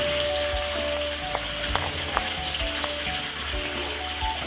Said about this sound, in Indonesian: sekarang kita tumis bumbunya ya bumbu untuk tumis bunga pepaya ini bumbu tumis semua ini bawang merah bawang putihnya